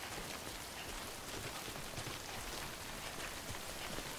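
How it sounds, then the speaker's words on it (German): Steady, even rainfall in the video game Death Stranding hisses without a break, a dense patter of drops at a constant low level, with no voices. "Füllt sie automatisch nach, wenn wir im Regen stehen."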